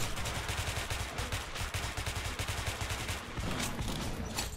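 Rapid automatic gunfire rattles steadily in the Metro video game, a dense continuous burst of shots at a moderate, even level with no talking.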